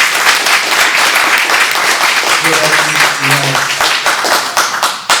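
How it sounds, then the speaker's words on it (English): Close, loud audience applause at a student success governance event, with many hands clapping in a dense, continuous burst that holds steady before tapering slightly at the end, a few voices briefly audible beneath. "I think we should all give them a round of applause"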